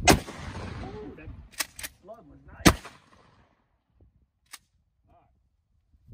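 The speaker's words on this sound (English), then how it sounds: "the first one is gonna be a 12 gauge slug" A single loud 12 gauge shotgun slug blast into a memory foam mattress outdoors, sharp and close with a rolling echo, followed by a second heavy shot and a few faint distant pops, with brief talk between.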